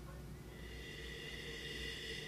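A person takes a long, steady sniff of wine from a glass at a wine tasting. The soft, continuous nasal inhale is close and quiet, with no talking.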